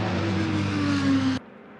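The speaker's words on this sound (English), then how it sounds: "Car has fired up, you can probably hear that." A race car engine fires up during a pit stop at the Rolex 24 at Daytona, a loud, steady roar with a rising tone that holds for over a second, then cuts off sharply.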